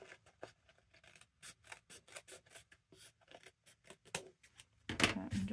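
Scissors trimming vintage book paper, a quick run of crisp snipping cuts in an uneven rhythm, close and quiet, ending with a louder rustle of paper.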